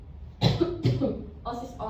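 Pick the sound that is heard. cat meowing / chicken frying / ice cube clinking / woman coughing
woman coughing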